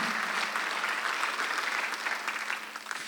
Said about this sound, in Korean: 박수로 하나 드리시기 바랍니다.